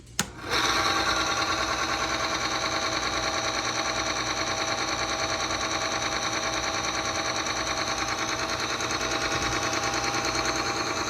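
A small engine in a motor oil torture test starts with a sharp pop and settles into a fast, even, rattling idle that runs loud and close without a break.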